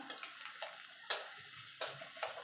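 Four green chillies fry with onion and garlic, a soft sizzle under several crisp spatula clicks and scrapes against the pan, spaced irregularly and heard close up.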